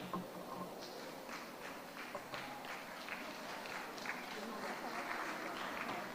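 Audience clapping at a nursing graduation ceremony: sustained, fairly distant applause from a crowd fills the room, a steady patter of many hands with no one standing out, and faint voices murmur underneath.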